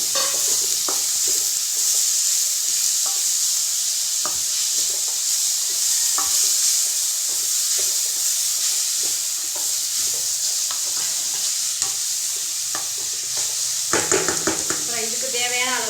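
Shredded cabbage and carrot stir-fry in a pan for a Tamil-style vegetable sandwich filling, giving a steady sizzle broken by repeated scraping stirs, with a brief clatter near the end.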